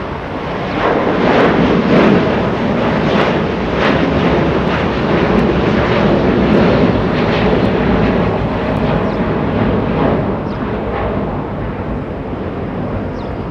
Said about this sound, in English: Delta, that's a 757